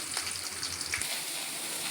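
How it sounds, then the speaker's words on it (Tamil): Onions and vegetables fry with cumin in a pan for sambar rice, giving a soft, steady sizzle with a couple of brief crackles near the start, heard close and fairly quiet with no speech. "அதையும் இதில் போட்டு நல்லா வதக்கணும்"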